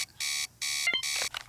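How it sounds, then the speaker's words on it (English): The alarm system in the game A Week In The Life Of Asocial Giraffe sounds in loud, harsh electronic bursts with short gaps between them, followed by a few quick beeping tones as it cuts off, close and alone. "So first we have to disable this intense alarm system here."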